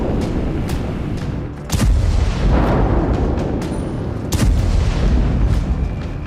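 Heavy booms from tank and artillery bombardment in Gaza hit in repeated bursts, with loud rumbling blasts about every couple of seconds over a constant low roar.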